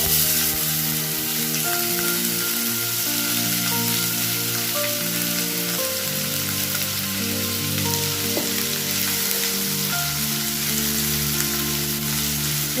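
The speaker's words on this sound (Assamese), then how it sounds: "তেল গৰম হৈ আহিছে এতিয়া মই ইয়াতে এই জিৰা দি দিম" Cumin seeds sizzle steadily in hot mustard oil in a frying pan for an egg curry, a dense crackling hiss that stays loud and close throughout with no voices.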